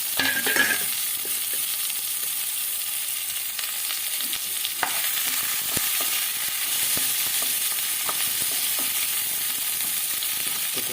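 Chopped onions fry in a pan with a continuous bright sizzle, close by, broken now and then by the soft clicks and scrapes of stirring.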